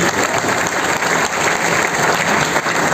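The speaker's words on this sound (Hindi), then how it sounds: "एक बार जोरदार तालियां सकते" Dense, loud applause from a seminar audience in Gurugram, a steady wash of many hands clapping at once without a break, close and full.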